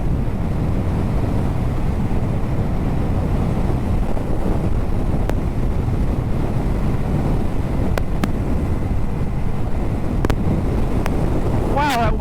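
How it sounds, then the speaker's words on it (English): Strong wind buffets a microphone while riding downhill, producing a loud, constant, rumbling roar that fills the whole stretch without letting up. "Wow, that wind is really strong."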